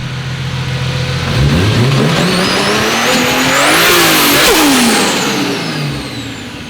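JZ-engined coupe revving hard through its exhaust, a loud close engine note climbing steeply in pitch, holding near the top for a moment, then falling back as the revs drop.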